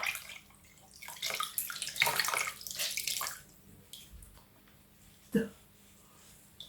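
Tap water runs and splashes while a face mask is rinsed off, loud bursts in the first half, then quieter trickles and a single sharp splash near the end.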